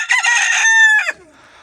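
A Leghorn rooster crows loud and close in one full, drawn-out call that rises, holds and drops off sharply, followed by faint background chicken noise.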